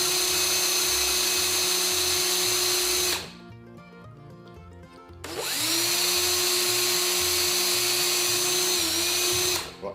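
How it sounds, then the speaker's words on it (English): A power drill bores pilot holes in wood during a scroll saw and carving session, whining loudly and steadily in two long bursts separated by a short quiet pause, with no talking. "So you're basically drilling pilot holes, aren't you, to release that link?"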